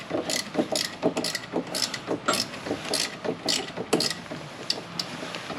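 A hand ratchet tightens suspension brackets over motorhome leaf springs, giving quick bursts of close, crisp clicks in an uneven rhythm of short strokes with brief pauses between them.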